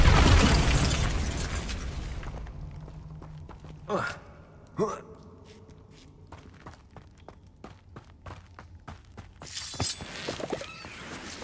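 In Hogwarts Legacy gameplay, a Bombarda spell explodes with a heavy burst at the start, followed by two sharper blasts a second apart and fading debris rattles, with faint voice sounds in between.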